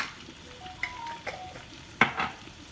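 Garlic hits the hot seafood boil sauce with a steady close sizzle and stirring, with a few sharp utensil clinks against the pot and no talking.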